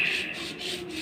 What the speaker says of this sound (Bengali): পাটায় এখন সরিষাগুলো ভালোভাবে বেটে নেব মিহি করে।